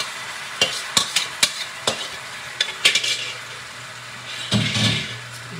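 Marinated pork sizzles in a hot pan while a utensil stirs it, with a series of sharp scraping strokes over a steady frying hiss that swells near the end, close by and with no talking.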